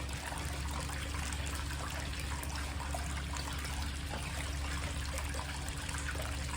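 Water washing slowly over Lake Superior beach sand in a gold sluice setup, a steady soft trickle and rush that carries the lighter material away, even and unbroken throughout with a low hum underneath.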